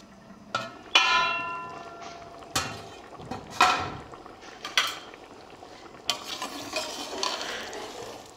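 Pulao being stirred in a pot, with metal spoon clanks and scraping, then a lid set down: several sharp clinks spaced irregularly over a soft background, close by.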